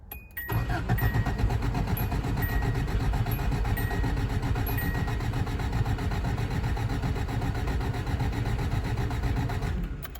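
A K-car engine with its coil wire grounded to the block cranks on the starter to build oil pressure: a loud, steady rhythmic churning that runs about nine seconds without firing, then stops.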